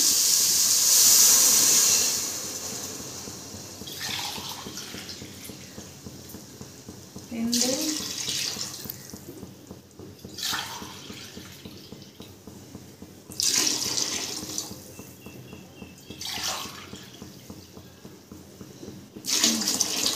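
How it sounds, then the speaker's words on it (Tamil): Coconut milk poured into a pot for coconut rice, a liquid gushing and splashing in several bursts with short pauses between, under a person talking. "தேங்காய் பால் சேர்க்க போகிறேன்."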